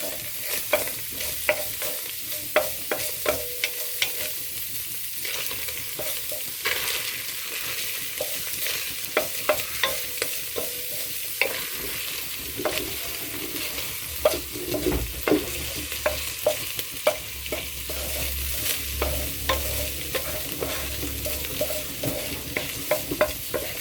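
Sliced garlic sizzles in hot oil in a pan while a utensil stirs it, giving a steady frying hiss broken by frequent scraping and clinking strokes, close and continuous with no talk.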